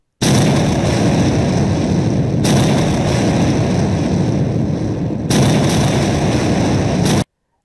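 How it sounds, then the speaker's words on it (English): Explosions of asteroids in an eye-tracking Asteroids game come as loud, sustained rumbling booms, with three long blasts running back to back and nothing between them. "Users control their gaze to each asteroid and dwell on it to make it explode."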